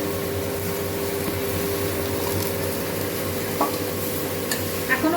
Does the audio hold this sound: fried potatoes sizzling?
yes